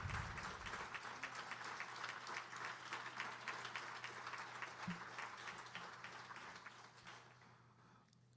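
Audience applause for keynote speaker Vernice at an environmental justice symposium, a dense, steady roar of many clapping hands that continues for several seconds and then gradually fades.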